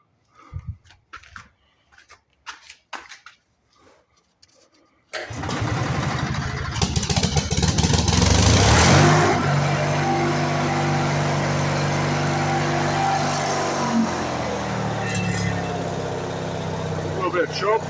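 A Lincoln Lincwelder 225 welder's engine is cranked a few times in short bursts, then catches and settles into a loud, steady running drone that holds to the end.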